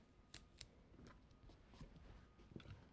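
Scissors snip through paper while a recycled jewelry holder is being made, with two sharp close cuts followed by softer rustling and handling, quiet overall with no talking.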